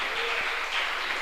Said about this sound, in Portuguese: E a igreja pode se assentar, aplaudindo ao Rei Jesus.